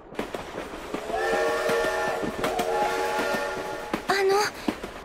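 A train whistle sounds in long sustained tones over the rumble and clatter of a moving train, followed by a brief higher shriek near the end; no talk over it.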